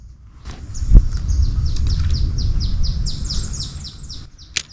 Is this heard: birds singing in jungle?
yes